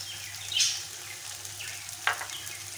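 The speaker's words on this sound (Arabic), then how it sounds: "انا غنزيد الزيت هكا صافي، ونخلي هادشي كامل كيتشحر" Food sizzles in oil in a pan while it browns, a soft, close frying hiss with a couple of brief sharper crackles.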